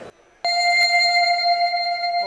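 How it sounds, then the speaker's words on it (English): A slowed-down wavetable tone from a Knobula Pianophonic synthesizer module rings out alone, starting with one sharp onset and sustaining as a steady, pure bell-like note with clear overtones, loud and close. "The wavetable sounds like this."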